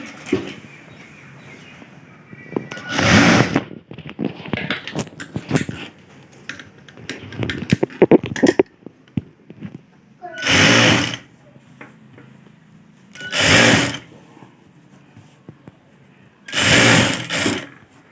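A sewing machine runs in several short, loud bursts, stitching along the edge of a blouse, with handling noises and quiet talk in the pauses between runs.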